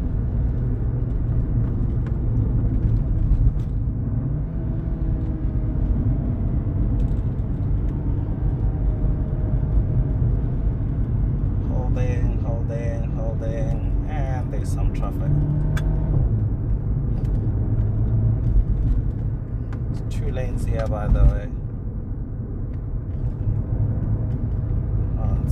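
A VW Golf 7 GTI Performance (169 kW) drives a twisty mountain pass. Steady engine and road rumble fill the cabin throughout, with the revs shifting gradually and brief voices in the middle.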